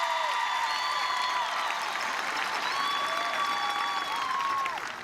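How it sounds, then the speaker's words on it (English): Sustained applause from a large crowd at a high school graduation, steady and dense throughout, with a few faint cheers mixed in before it tapers slightly at the end. "Please give them a round of applause for their outstanding dedication and accomplishment."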